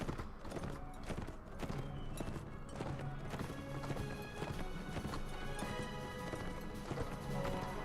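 Hooves pound in a rapid, continuous clatter of galloping horses during a Mount & Blade: Warband battle, with an occasional whinny and busy clashing noise all around.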